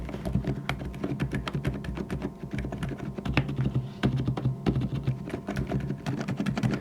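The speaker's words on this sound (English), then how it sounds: "you can hear how these mechanical silent linear switches sound like" Steady, muted typing on a be quiet! Light Mount keyboard with silent linear mechanical switches, soft, dull key presses in a quick continuous rhythm, close up and alone.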